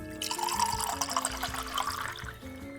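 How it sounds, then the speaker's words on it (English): Water pours at a desk into a cup or glass, a close, bright splashing trickle that runs steadily for a couple of seconds before tapering, with faint low tones in the background. "There you get that crispy water sound."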